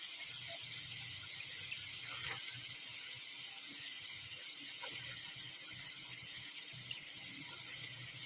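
Green peas and cauliflower are washed in water in a home kitchen, a steady faint hiss of running water with soft splashes and small clinks, no talking.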